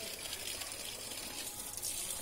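Water splashes steadily onto summer plants in a home garden, a close, even hiss of spraying flow with no break.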